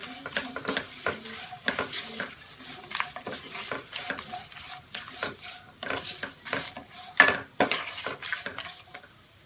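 Onions and curry leaves fry in a kadai for tomato pulao, a soft sizzle beneath repeated scraping and clinking strokes of a spoon stirring against the metal, irregular and close, with no talking.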